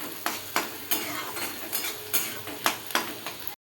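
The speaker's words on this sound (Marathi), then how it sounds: "बघू शकता कांदा आपला मस्त असा भाजला आहे" Onions frying in a pan with a spoon scraping and stirring in a steady rhythm, about ten distinct strokes over a constant close sizzle, no voices.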